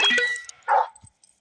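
A short, close dog bark or yip in the game PK XD, a couple of quick bursts followed by a faint low thump, then silence.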